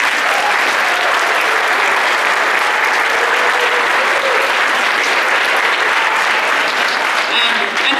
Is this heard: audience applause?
yes